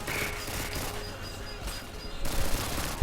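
Dense, continuous gunfire in Call of Duty Modern Warfare 2 with dual-wielded weapons firing in alternation, a rough sustained barrage that swells louder near the end while someone talks over it.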